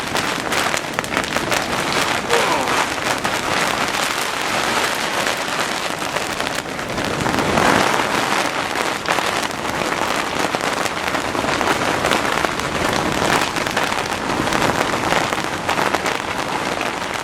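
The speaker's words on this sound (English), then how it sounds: "10-15 minutes of just brutal downpour." Heavy rain pounding down in a dense, unbroken roar during a storm, loud and close throughout, with no voices.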